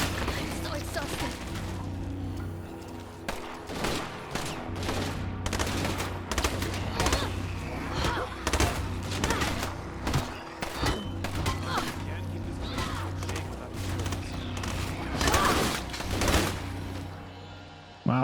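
Enemy gunfire in the XCOM Darkside Mod strategy game, a series of sharp, loud shots and bursts scattered unevenly over a low steady background hum, with some quieter gaps between volleys.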